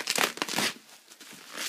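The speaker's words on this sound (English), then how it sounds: "everything's bubble wrapped, so I'm going to pull this right out" Plastic bubble wrap and packaging around a Transformers Prime AM-24 figure crinkling and tearing as it is pulled free, a burst of close rustling that eases off, then rises again briefly at the end.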